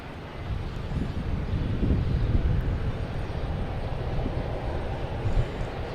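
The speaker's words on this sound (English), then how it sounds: "We got another Cancun flight coming in." Airliner arriving on a Cancun flight at Boston Logan Airport, a broad rumbling engine roar heard from outside that swells slightly and holds steady, with some wind noise and no talk.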